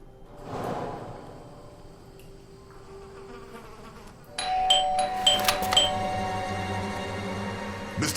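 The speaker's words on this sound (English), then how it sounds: "I thought I should use the doorbell so I wouldn't startle you." Doorbell chime ringing inside the Blues and Bullets video game, a bright multi-tone ring of several struck notes starting midway through, loud and clear over a quiet low room hum with no speech.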